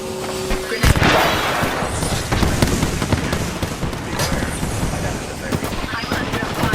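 Apex Legends firefight: loud, dense gunfire with rapid bursts and booming impacts layered continuously, a voice talking briefly over the shooting.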